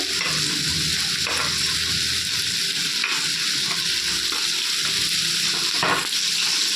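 Coriander frying in a pan for tomato chutney, a steady loud sizzle with repeated scraping strokes of a spoon stirring through it.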